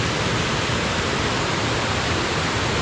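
Waterfall cascading at Cachoeira do Índio in Carrancas, Minas Gerais, a loud, steady, broadband rush of falling water filling the whole stretch with no voices.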